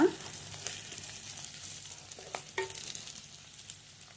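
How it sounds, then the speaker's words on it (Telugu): Shelled raw peanuts fry in hot tempering oil for a ridge gourd masala fry, giving a steady close sizzle with a few stirring clinks and scrapes of the spoon. "ఒలుచుకున్న శనక్కాయ పిక్కల్ని వేసుకుందాం. బాగా ఎర్రగా వేయించుకోవాలి."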